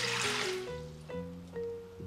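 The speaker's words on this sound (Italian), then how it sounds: "Nel boccale metto l'acqua" Water poured into a Thermomix Bimby TM5 bowl: a quiet, brief rush of liquid at the start settling into faint trickling and filling sounds, alone and close.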